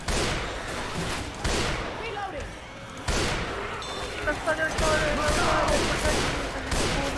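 Bursts of gunfire in a video game, loud repeated shots and booms in quick volleys, close and dense, with people talking over the action.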